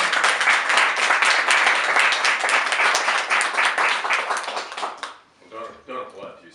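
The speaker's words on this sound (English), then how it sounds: "Could we have a round of applause for" An audience at a talk by an artist and songwriter gives a dense round of applause that tapers off after about five seconds, followed by someone speaking.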